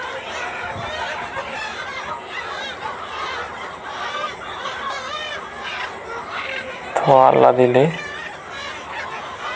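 Chickens cluck in a crowded poultry farm, a dense chatter of many birds, with one louder close squawk near the end while someone talks over the flock.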